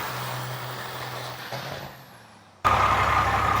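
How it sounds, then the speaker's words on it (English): A diesel truck engine runs out of fuel: its low, steady drone sags and fades over about two seconds, then an abrupt, louder broadband noise cuts in. No one speaks. "Definitely runs out of fuel still."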